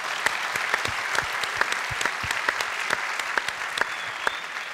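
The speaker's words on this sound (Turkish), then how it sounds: "Bir alkış alalım evet, onlara da." Studio audience on the Popstar TV talent show applauds the orchestra, a moderate crowd clapping with distinct individual claps cutting through the steady patter.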